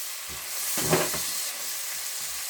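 Soy sauce poured into a hot pan for chili chicken, giving a brief burst of hissing sizzle that settles into a steady background fry, close and moderately loud.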